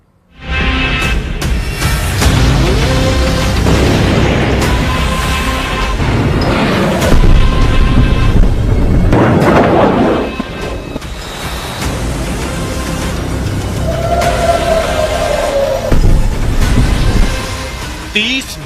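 Loud missile fire and explosions from a launch site, a dense sustained roar of booms and rumbling blasts that swells and subsides over the whole stretch, with a voice talking over it.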